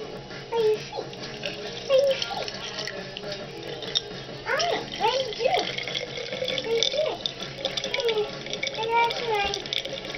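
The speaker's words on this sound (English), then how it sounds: "I think I need to add a little bit of water." Water trickles and splashes as it is poured into a small potion bottle, a light bubbling pour running steadily at close range while someone talks quietly over it.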